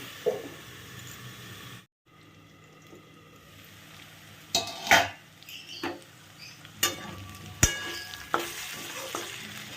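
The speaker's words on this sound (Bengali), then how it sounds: "আমার কিন্তু বেগুনটা ভালোভাবে ভাজা হয়ে গেছে" Eggplant sizzles steadily as it fries in a pan, with intermittent scrapes and knocks of a utensil stirring it, a brief hush near the start, then louder clatters toward the end; no talking.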